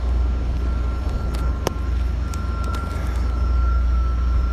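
A Ram turbo diesel truck engine runs with a steady, loud low rumble throughout, with a faint high tone and a few brief clicks riding over it.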